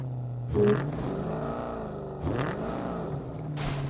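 Engine of a stolen car driving in a video game, rising and falling in pitch as it accelerates and shifts, steady and fairly loud throughout with brief surges, no talking over it.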